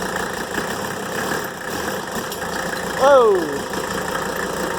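A freshly rebuilt Mercedes OM617 diesel engine idles cold with a steady, clattering drone throughout, while a man briefly exclaims over it.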